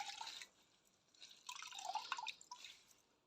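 Water drips from a cross-stitch embroidery being wrung out after soaking, a few short splashy drips and trickles in quick irregular bursts, close by and fairly faint in a quiet room.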